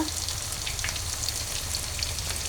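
Ginger paste hits hot oil in a pan where fish was just fried, producing a dense, continuous hissing sizzle that stays loud and even from start to finish with no voices.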